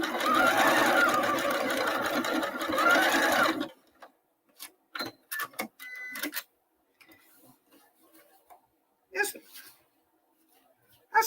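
A sewing machine runs a zigzag stitch in a steady, fast whirring rattle for about four seconds, close and loud, then stops; scattered clicks and taps of handling follow, with occasional soft talk.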